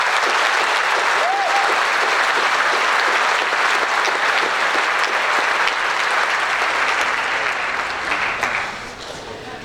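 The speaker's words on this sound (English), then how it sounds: "Now let's get a round of applause." A graduation crowd at a technical school ceremony applauds the school committee, sustained dense clapping from many hands that holds steady and eases off slightly at the end.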